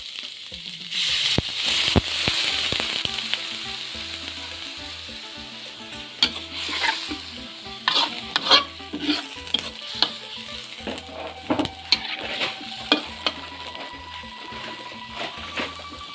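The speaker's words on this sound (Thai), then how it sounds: "น้ำเดือดปรุงเครื่องครับผม" Eel bait mixture bubbles and is stirred in a pot, with sizzling, bubbling texture and frequent clinks and scrapes of the utensil against the pot, close and fairly busy throughout.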